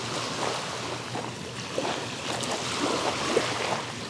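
Small waves lap against the shore of Windermere lake, a soft continuous wash of water with gentle irregular splashes, heard close and alone in open air.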